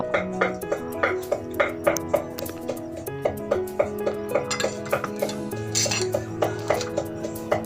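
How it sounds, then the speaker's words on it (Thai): Chicken biryani being scooped into a bowl, with repeated bright clinks and scrapes of a utensil against dishes in a steady rhythm, close and fairly clear. "เสร็จแล้วก็ตักใส่ถ้วยเลยนะเจ้า"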